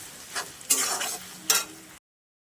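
Onions frying in a pan, heard as soft sizzling with two louder bursts of stirring, close and brief, ending in sudden silence.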